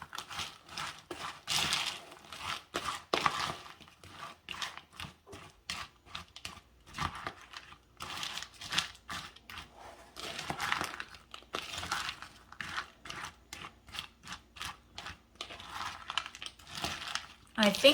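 A pea salad with mayo, sour cream and vinegar is stirred in a bowl, giving close, soft wet squelches and scraping clicks in an irregular rhythm, with a voice murmuring faintly in places.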